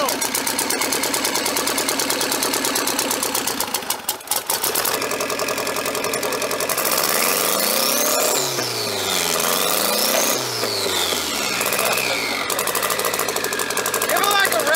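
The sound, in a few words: turbocharged KA24E engine running in a 240SX after start-up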